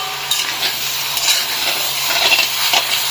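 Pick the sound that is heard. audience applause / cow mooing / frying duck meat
frying duck meat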